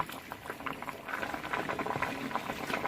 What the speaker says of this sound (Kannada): ಆನಂತರ ನಾವು ಸ್ವಲ್ಪ ಬೇಯಬೇಕು ಅಲ್ಲಿಗೆ ಬೇಳೆನೂ ಫುಲ್ ಬೆಂದಂಗೆ ಆಗುತ್ತೆ